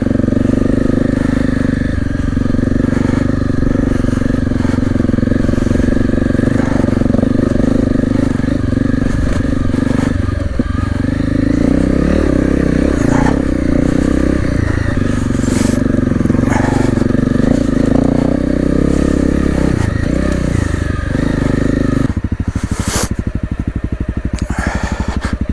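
A Honda CRF250L dual-sport motorcycle engine drones loudly and steadily while riding on rough ground, with shifting revs, clattering and scraping from the terrain, and a brief change in tone near the end.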